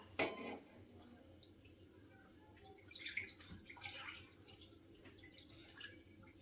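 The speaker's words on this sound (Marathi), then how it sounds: "सर्वप्रथम दूध घालूया" Milk poured into a pan while making vermicelli kheer, a soft continuous liquid splash with a sharp clink at the start and faint clatter of utensils through the pour.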